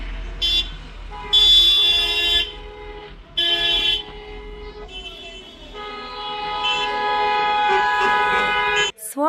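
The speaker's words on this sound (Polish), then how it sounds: "Trąbią, cieszą się." Car horns honking in celebration on a street in Croatia, several sustained toots in a row, some overlapping, heard from a distance beneath quiet ambient noise.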